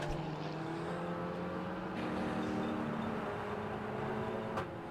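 The number 11 race car at a 750MC Club Enduro at Croft, suffering an intermittent fuel pickup problem, drones past with a sustained engine whine rising in pitch, heard from a moderate distance over circuit ambience.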